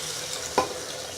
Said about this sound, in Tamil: இப்போ இதுக்கு தேவையான தண்ணி சேர்த்துடலாம்.